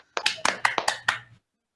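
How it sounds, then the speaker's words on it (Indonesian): A short burst of about six sharp hand claps in an online class, close and distinct, with a faint voice underneath. "tepuk tangan untuk kita semua"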